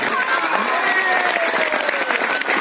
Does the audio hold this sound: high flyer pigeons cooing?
no